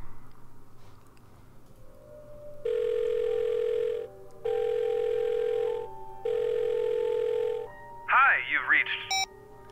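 A phone rings in the adventure game The Blackwell Deception: three long, loud electronic ring bursts with short gaps, then a warbling chirp, over a low background hum.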